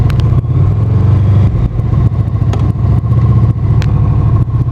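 A Honda VFR 800 motorcycle pulls away, its engine loud and close with a steady mid-pitched drone and some clatter throughout, heard alone.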